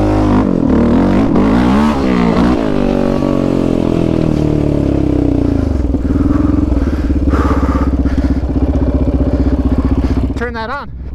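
A Raptor 700 ATV engine runs steadily and loudly on a test ride, droning with a clattery, buzzing tone. It shifts pitch near the start and revs up sharply at the end.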